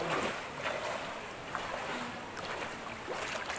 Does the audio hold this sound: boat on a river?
yes